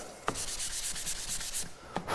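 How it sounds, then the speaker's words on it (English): Steady back-and-forth scratching of sandpaper rubbing over wood in close strokes, with a couple of sharper knocks, continuous and fairly loud. "just to give it a really smooth sanding before you put it together"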